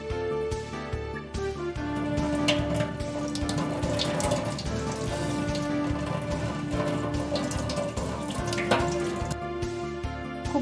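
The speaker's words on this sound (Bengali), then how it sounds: "এবার ঠান্ডা জল দিয়েও খুব ভালো করে ধুয়ে নিতে হবে।" Sago pearls being rinsed under cold running water, a steady close splashing and pattering like a tap stream over the pearls, continuous and fairly loud throughout with no talking.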